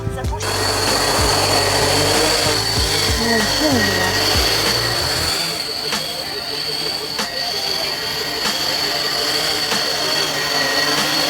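A 13-inch FPV drone spins up its motors and lifts off, a loud steady whine with a sustained high tone and rising pitch sweeps early on, continuing as the craft flies, with voices talking over it.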